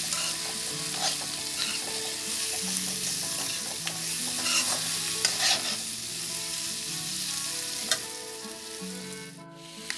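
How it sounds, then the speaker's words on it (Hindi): Pork with red chili powder and chicken masala fries and is stirred in a pan, a steady close sizzle broken by scraping and clanks from the spatula throughout. "रेड चिली पाउडर और थोड़ा सा चिकन मसाला डाल के मैं थोड़ी देर और फ्राई कर लूँगी।"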